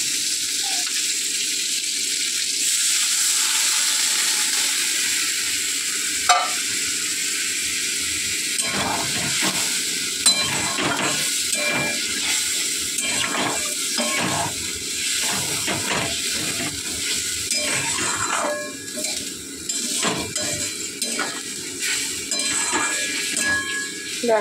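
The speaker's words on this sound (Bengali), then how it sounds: "তারপরে একটু জল দিয়ে দেবো।" Water added to a sizzling curry in a pan produces a loud, steady hiss of steam, joined by clinks and scrapes of a utensil stirring against the pan, with the sizzle easing toward the end.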